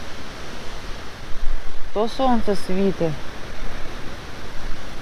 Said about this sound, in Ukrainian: Вітер, дощ,